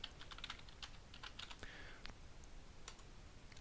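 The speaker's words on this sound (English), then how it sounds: "and I can type in my password" A password being typed on a computer keyboard, a quiet flurry of close key clicks in uneven bursts that thins out toward the end.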